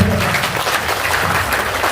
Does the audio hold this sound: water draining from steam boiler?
no